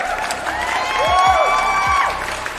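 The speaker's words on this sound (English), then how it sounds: "Round of applause." A brief crowd applause and cheering effect plays as a celebratory round of applause, clapping and whoops filling a couple of seconds at steady, moderate loudness with no talk over it.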